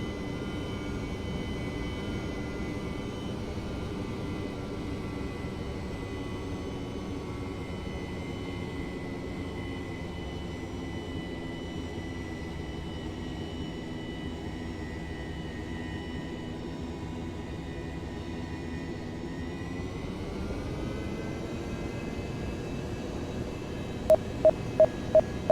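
An F/A-18 jet engine in IL-2 1946 during carrier landing practice, a steady droning whine that shifts pitch upward as throttle is added, ending with a few quick clicking beeps.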